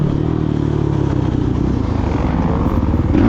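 A motocross dirt bike is ridden hard on a woodsy MX1 sprint race track, its engine roaring loud and close at steady full throttle with a rough, clattering edge throughout.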